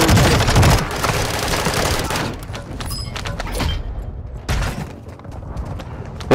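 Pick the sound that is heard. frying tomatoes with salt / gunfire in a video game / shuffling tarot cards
gunfire in a video game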